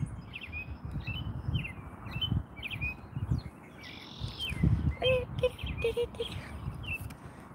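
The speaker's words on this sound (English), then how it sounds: "The birds are singing" Outdoor birdsong on a chilly day: repeated short chirps and tweets from a few birds at moderate distance over a constant rustling, wind-like background, with no talking.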